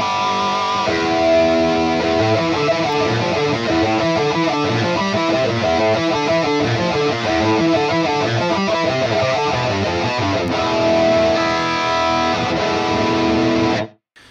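Electric guitar through an Axe-Fx FM3 with a short 8–9 ms digital mono delay panned hard left and right for stereo widening, playing a steady, dense, sustained lightly distorted part that stops abruptly at the end.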